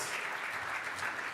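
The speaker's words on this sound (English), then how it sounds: "Big round of applause" Steady applause from a conference audience at a Lightning Network summit as a panel takes the stage, a continuous dense patter of many hands at moderate distance, fairly soft and even throughout.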